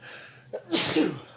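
A single close sneeze from a man, a brief intake followed by a sharp burst that tails off, with no other sound around it.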